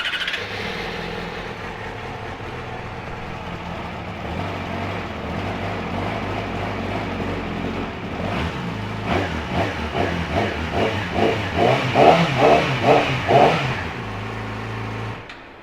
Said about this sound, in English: Right, let's give it a start up so we can hear the noise.